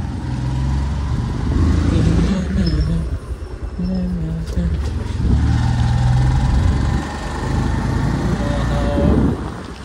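A car engine runs at a steady low rumble as a group sets off by road, with voices talking over it throughout.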